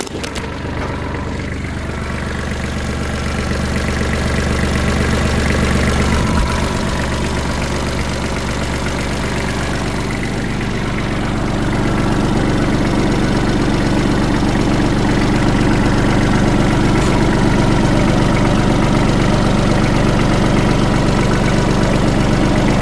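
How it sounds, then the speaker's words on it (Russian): A Kubota KL345 tractor's diesel engine runs steadily at idle, loud and close, with a low continuous drone and a slight rise in pitch partway through. "Двигатель"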